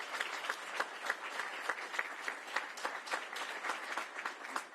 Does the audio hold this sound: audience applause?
yes